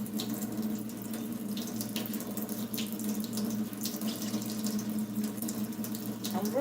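Water runs steadily from a kitchen tap into a pot for cooking chicken and rice, a continuous close rush with faint clatter, about 36 ounces being measured, heard alone without speech.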